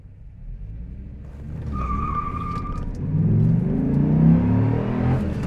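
A 2004 Dodge Ram SRT-10 pickup with a six-speed manual launches hard with no traction control, its engine rumbling loud and close, then the revs climb steadily as it pulls toward 60 mph, with a brief squeal near the start.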